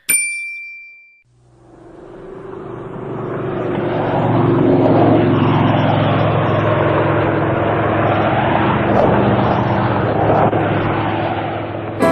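An airplane flies past as the answer to a children's riddle, a steady, loud engine roar lasting about ten seconds after a brief ding at the start.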